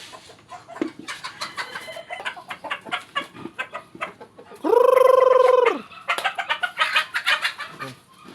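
Barred Plymouth Rock chickens crossed with naked neck breeders cluck repeatedly while feeding in a backyard farm, with a busy chorus of close clucks and one loud, sustained squawk midway.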